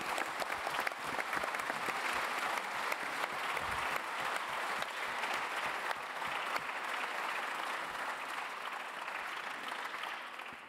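A conference audience applauds after a speech, sustained dense clapping that holds steady for about ten seconds and fades slightly toward the end.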